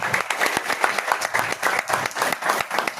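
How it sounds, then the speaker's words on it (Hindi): An audience at an award ceremony in Chhapra applauds an honoured additional director with steady, dense clapping that carries on throughout at a moderate level. "सर के लिए तालियां हो जाए।"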